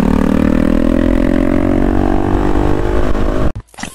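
Loud BMW G310-RR motorcycle with a loud aftermarket exhaust climbing a mountain road in India, engine droning steadily and rising in pitch under acceleration, close and dominant before cutting off abruptly near the end.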